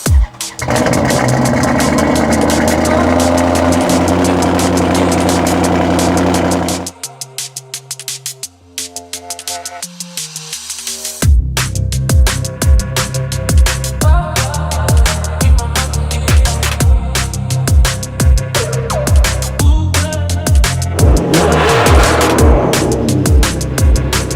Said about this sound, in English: So I'm gonna fire it up for the first time in a year.